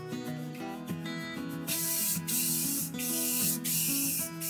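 Krylon Gloss Crystal Clear spray coat goes onto a wooden bear clock in repeated hissing aerosol bursts, each lasting about a second, close and fairly quiet, with no talking.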